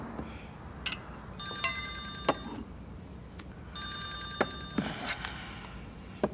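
A telephone rings indoors with two separate bursts of trilling bell tones, fairly faint, against quiet room noise and a few small clicks.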